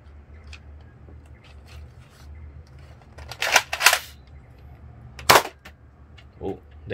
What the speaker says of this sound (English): We're going to have a firing demo of the Ultra 4.